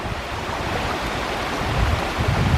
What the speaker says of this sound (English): these are the headwaters of the Thornton River coming down